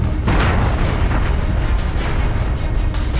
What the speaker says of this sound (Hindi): परीक्षण के धमाके से दुनिया का ये इलाका हिला